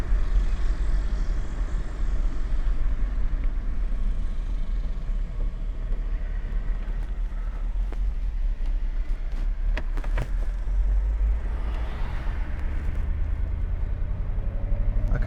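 A 1990 Mercedes 560SEC pulls at full throttle in first gear, a broad, steady engine roar with road rumble heard from inside the car, swelling and rising in pitch toward the end.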